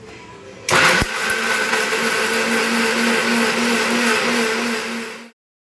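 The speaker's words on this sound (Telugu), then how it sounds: "ఒక మిక్సీ జార్లోకి వేసుకుని మెత్తగా పేస్ట్ లాగా పట్టుకోవాలి" A mixer grinder kicks on abruptly and whirs loudly at a steady high pitch for several seconds grinding onion into a smooth paste, then cuts off into silence.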